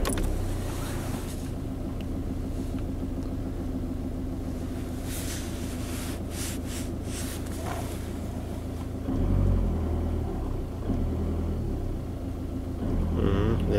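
A diesel car engine being started and idling, a steady loud low rumble that swells briefly near the end, with faint speech in the background.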